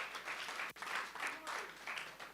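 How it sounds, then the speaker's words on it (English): Clapping from a conference audience at a social workers' gathering, a soft, continuous patter of many hands heard from a distance, with a brief sharp click partway through. "Let's give him a clap."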